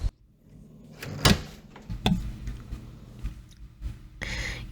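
A door is flung open in a My Hero Academia otome video game, heard as two sharp, close knocking bangs over a low background hum.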